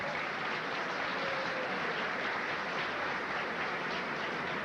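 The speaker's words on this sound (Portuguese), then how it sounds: "Uma salva de palmas para Padre Vitor." A crowd applauds Padre Vitor at a religious gathering, a dense, steady wash of clapping that holds at an even level throughout with no voices over it.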